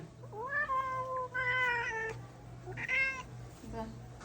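A cat meows repeatedly while being washed and wiped clean, with several drawn-out, complaining cries close by. A steady low hum sits underneath.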